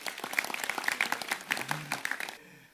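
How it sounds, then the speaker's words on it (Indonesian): Scattered, fairly sparse clapping from an audience at a community gathering, with individual claps standing out rather than a dense roar, tapering off near the end. "Jadi tepuk tangan sekali lagi untuk beliau."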